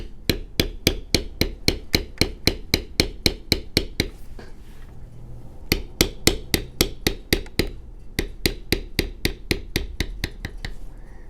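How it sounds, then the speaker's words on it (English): A beveler tool struck with a mallet on cased leather during tooling, giving sharp, dense, evenly spaced taps in two long runs separated by a brief pause, close and loud. "What that sounds like as we bevel."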